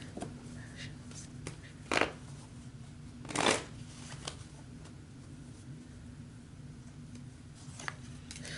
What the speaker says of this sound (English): I've been shuffling so long